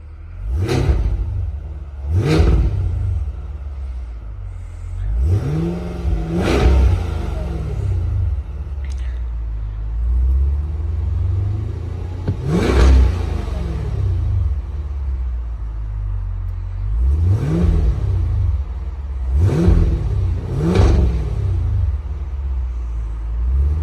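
A 2023 Cadillac Escalade-V ESV's big V8 engine revs repeatedly in sharp bursts, each roar rising and falling back to a deep rumbling idle, close and loud.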